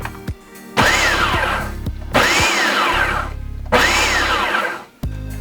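Food processor pulsing fresh ginger and spices into a rough mix, three loud close bursts of whirring motor and chopping, each about a second long, separated by short pauses.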